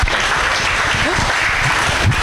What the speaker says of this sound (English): Everyone, please give her a round of applause again